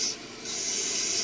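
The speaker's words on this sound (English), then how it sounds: "So I'm going to use a fine sintered burr just to kind of define that valley a little better." Fine sintered burr grinding a fire agate stone, a steady soft abrasive hiss that dips briefly then continues close and even, with no talk.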